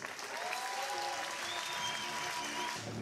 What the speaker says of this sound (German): einen dicken Applaus für Sarah Schulz.